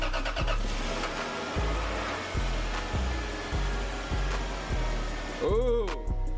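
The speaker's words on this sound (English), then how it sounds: "Start the car up." A Lexus IS300 engine starting, with a rhythmic series of low pulses building to a rising whir and catch near the end, heard close against a steady background.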